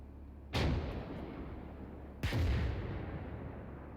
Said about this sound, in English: 2S1 is, yeah, it's a 122 millimeter 2A18 howitzer